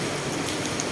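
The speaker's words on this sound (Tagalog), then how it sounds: "Lakas ng ulan." Heavy rain pours steadily in Macau, a dense, even hiss of drops drumming on surfaces throughout, close and loud with no voices.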